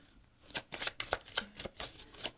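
Tarot cards being handled and shuffled, a quick run of soft, crisp flicks and riffles close by, quiet and alone.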